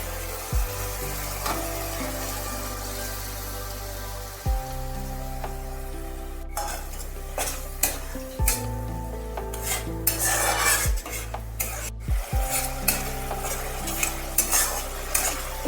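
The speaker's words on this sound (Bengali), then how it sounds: "কিমা দিয়ে কষানোর পর কিমা সেদ্ধ করার সময় আমার যে জলটা ছিল সেই জলটা আমি ঢেলে দেব" Minced goat meat frying in a pan with goat fat: spoon scrapes and metal clinks, then water poured in makes loud bursts of crackling sizzle, with stirring continuing close by and no talking.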